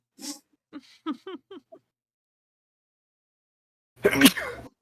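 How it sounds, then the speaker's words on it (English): A single loud sneeze bursts out near the end, after a few short, quiet vocal sounds separated by silence. "So much sneezing."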